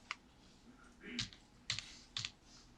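Computer keyboard bracket keys are pressed in a few faint, sharp clicks spaced irregularly in a quiet room.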